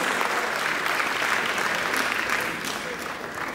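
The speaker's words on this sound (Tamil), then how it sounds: "கைத்தட்டல் பிரம்மாண்டமாக இருக்கு" Audience applause at an award event, a dense, sustained clatter of many hands clapping that eases slightly toward the end, heard from within the crowd with no speech.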